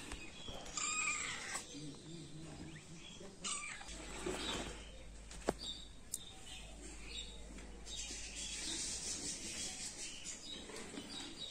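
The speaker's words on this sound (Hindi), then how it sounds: "वो मुनमुन नाम की बिल्ली थी नहीं, अभी वो घूम के वापस आ गई है" A cat meows a few times amid quiet background noise and occasional bird chirps, with a person speaking softly in between.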